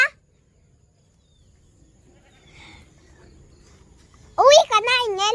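A goat kept by a family gives one loud, wavering bleat close by near the end, after several seconds of near silence with faint low rumbling.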